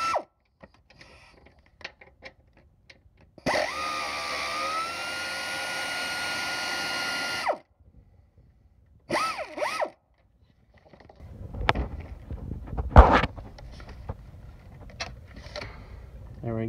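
A power tool runs in a steady whirring burst for about four seconds while removing the last car motor mount bolt, followed by a shorter burst and then clattering handling noises nearby.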